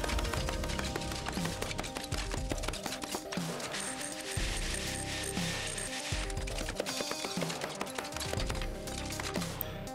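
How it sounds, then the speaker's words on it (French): Sledgehammer smashing a hollow-block concrete floor slab with clay blocks and steel rebar, repeated heavy thuds in a loose rhythm followed by crunching, clattering rubble, close and loud. "On peut donc continuer avec la masse, vu que c'est creux en dessous, ça va bien."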